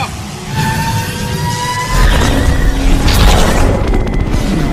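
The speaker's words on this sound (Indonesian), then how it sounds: "membuat sebuah ledakan dahsyat tepat di tubuh Ivan yang berada di tengah-tengah mereka berdua" A massive explosion rips through a scene in an Iron Man film. A deep, loud boom and roaring rumble swell in after a quieter start and keep thundering to the end, with no talking.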